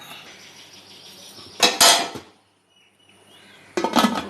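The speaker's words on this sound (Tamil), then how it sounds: "இப்போ குக்கரை அடுப்பில் வச்சோம்" A metal pressure cooker is set down on a stove, giving two bursts of loud clanking and scraping metal separated by a brief near-silent pause, with a faint background hum between.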